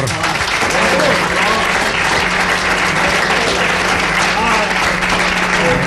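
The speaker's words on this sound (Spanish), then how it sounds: "fuerte el aplauso para él" Strong, steady applause from a studio audience at a live radio programme presentation for Aragón Radio, loud and sustained throughout, with a voice speaking over it.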